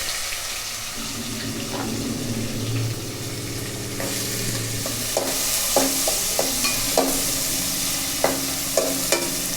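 Onions going into a pan with green chilli, garlic and cumin already frying, a steady sizzle underneath with scattered clinks and scrapes of a spoon stirring, close and moderately loud, no talking.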